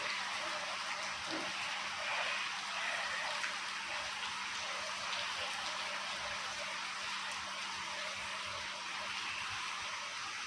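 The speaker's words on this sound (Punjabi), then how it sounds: "ਦੇਖੋ ਮੀਂਹ ਵੀ ਪੂਰਾ ਪੈ ਰਿਹਾ ਤੇ ਧੁੱਪ ਵੀ ਪੂਰੀ ਹੈ" Steady, dense rain of the first Sawan monsoon shower, falling while the sun shines, pours down continuously with a constant hiss, close and fairly loud, with no voices.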